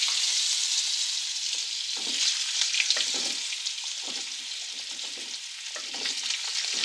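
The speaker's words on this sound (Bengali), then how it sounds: "আমি এই একই তেলের মধ্যে আলুগুলো ভেজে নিব। দিয়ে দিচ্ছি আলুগুলো।" Potatoes fry in the same hot oil just used for fish, giving a steady, loud crackling sizzle with faint stirring scrapes throughout.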